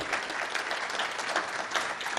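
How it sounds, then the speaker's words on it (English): At a writers award ceremony, an audience gives a storyteller another round of applause, a soft, steady patter of many hands heard from a distance and holding evenly throughout. "Let's give Rev Will Heal another round of applause."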